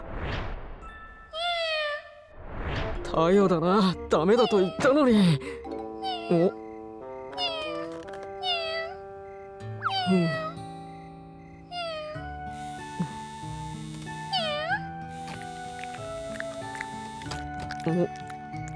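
Cartoon cat in the Tayo the Little Bus animation gives a series of high, sliding meows and mews, mixed with bright musical tones and a voice talking over parts of it.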